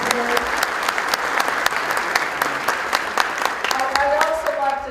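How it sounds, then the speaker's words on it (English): An audience claps through sustained applause at a corporate keynote event, a dense, steady patter of many hands with a few sharper claps standing out and some background crowd voices mixed in. "Can we have a big round of applause for the people who organized this event today?"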